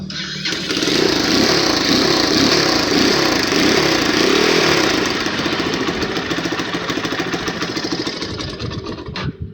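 An XR 200 motorcycle engine that had trouble starting idles nearby with a loud, rough, uneven putter that settles into a steadier, slightly lighter beat.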